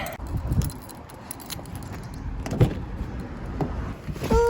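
Someone gets into a car on a hot day, with shuffling, rustling and keys jingling, then solid thuds of a car door closing nearby, brief and close.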